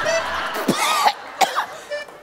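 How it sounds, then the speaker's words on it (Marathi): A person coughs several times in short, sharp bursts during a comic doctor's examination scene, with brief gaps and a faint voice between the coughs. "खोकल्याचा त्रास कधीपासून आहे."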